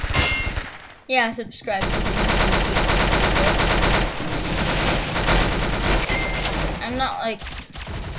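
Rapid, loud gunfire from the video game Arsenal crackles almost without a break, with brief pauses, while a player talks over it.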